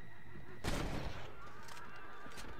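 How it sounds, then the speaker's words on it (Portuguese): A single loud gunshot from a revolver-style firearm in the Western video game Red Dead Redemption, a sharp broadband blast followed by a brief decaying echo over quiet game ambience. "Ele deu tiro, ele errou o headshot."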